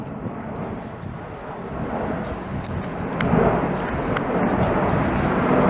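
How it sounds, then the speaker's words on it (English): An Airbus A340 jetliner comes in to land over a Montreal street, its broad engine roar building steadily from a distant rumble to a louder, fuller drone, with wind buffeting the microphone. "another big-ass jetliner landing right on"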